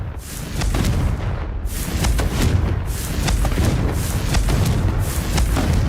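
Confringo fire spell blasts in Hogwarts Legacy, a rapid series of booming explosive impacts with crackling bursts, loud and dense, repeating without pause across the stretch.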